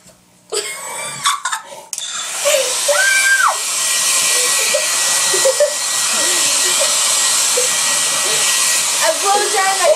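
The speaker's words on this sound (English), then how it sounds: "It's a blow dryer." A handheld blow dryer switches on after a few clicks and rattles, then runs with a loud steady whooshing roar, while vocal noises and brief sounds are heard over it.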